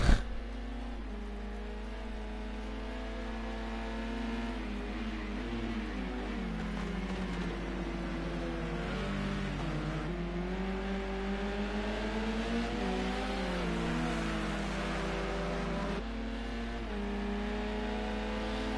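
Touring car race engines in a racing video game, a steady, droning engine note with shifting pitch as revs rise and fall, running continuously and fairly loud with no talk over it.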